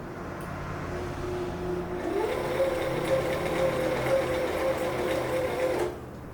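A sewing machine stitches around appliqué letters, starting up after a moment of low hum and running in a steady, close mechanical whir for several seconds before stopping.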